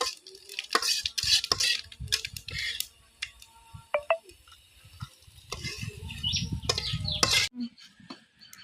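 Garlic, onion and cumin seeds fry in oil in a pan, giving bursts of hissing sizzle broken by clattering stirring and scraping. The sound is close and uneven, with a faint voice and some chirping in the background.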